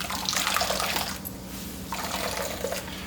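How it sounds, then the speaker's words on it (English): Liquid coconut milk splashing and trickling as grated coconut pulp is wrung and squeezed by hand, a steady wet pouring stream close by with a short lull in the middle. "I'm gonna wring and squeeze all of that milk out"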